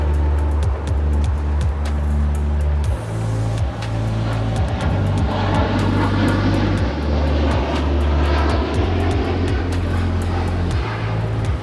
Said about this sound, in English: This is United 231 departing to London Heathrow on a 787-9 Dreamliner.